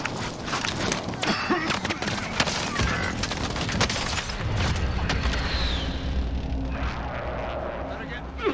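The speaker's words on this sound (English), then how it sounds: "Enemy precision airstrike." Precision airstrike explosions in Call of Duty: Warzone: a dense barrage of loud booming impacts in rapid succession over a continuous rumbling roar that thins out toward the end.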